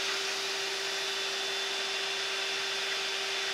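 A vacuum cleaner pulls twine through the frame of a bicycle, giving a steady, loud whooshing drone with a constant motor hum from start to finish and no talking.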